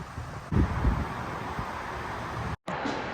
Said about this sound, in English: And the wind's blowing it away for you.